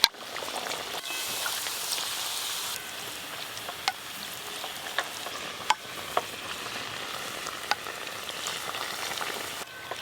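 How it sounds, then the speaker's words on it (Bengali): Paratha frying in a pan as hot oil is poured into its middle, giving a steady, fairly quiet sizzle with occasional sharp crackles and pops throughout. "পরোটাটা দেওয়ার সাথে সাথেই মাঝখানে এরকম করে গরম তেল দিতে হবে।"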